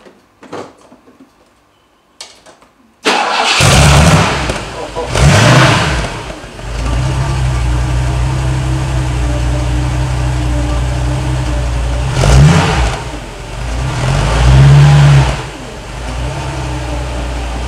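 A 1984 Mercedes 500SL engine starts after a few faint clicks, then revs up sharply several times between stretches of steady idling, loud and close.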